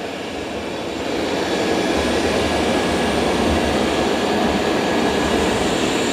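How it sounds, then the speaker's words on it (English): Two robot vacuum-mops, a Roborock S8 Pro Ultra and a Dreame L20 Ultra, run together, a steady broadband whirring and brushing hum that swells slightly after the first second and then holds constant and fairly loud. "And the Dreame's doing a good job vacuuming and mopping."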